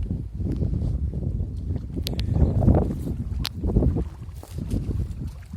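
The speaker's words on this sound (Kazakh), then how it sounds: "Мына қайықты жүргізуді қазір сіздерге көрсетемін." Model sport boat running on water at a school ship-model contest, a steady close whirring rush with water splash and wind buffeting that swells and eases as it passes.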